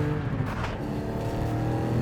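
A BMW M2 manual coupe with a 454bhp rear-drive engine revs high while driving, a steady loud drone with strong low harmonics holding throughout, no speech.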